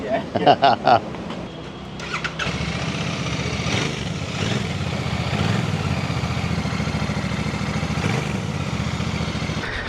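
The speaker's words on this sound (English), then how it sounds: "Now for the first ride on the Royal Enfield Bear 650 Scrambler." A new Royal Enfield Bear 650 Scrambler motorcycle runs with a steady, fairly close engine drone after a few short bumps and knocks at the start, as people talk briefly early on.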